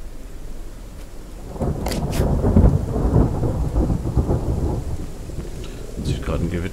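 A thunderstorm rolls through the Western survival game Outlaws of the Old West: deep, loud rumbles of thunder build over a steady wash of rain, with no voices.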